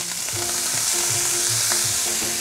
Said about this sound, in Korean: 그리고 수분이 날아갈 때까지 이대로 볶아주세요.